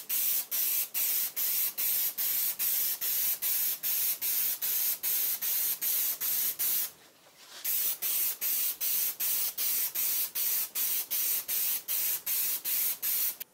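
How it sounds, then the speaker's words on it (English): Rapid bursts of aerosol clear lacquer spray, short hissing pulses in a steady rhythm, with a brief pause midway before the spraying resumes. "I'm going to spray them with a clear finish. I'm going to be using lacquer."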